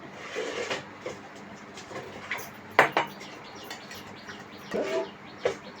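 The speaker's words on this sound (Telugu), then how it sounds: "ఉప్మా ఫస్ట్ స్టవ్ వెలిగించి పానీలు పెట్టి" A metal pot is set down on a lit gas stove in a home kitchen while cooking upma, giving a few light clanks and knocks over a steady low hiss.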